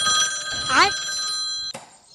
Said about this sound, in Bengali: এই অবেলায় আবার কে ফোন মারাচ্ছে?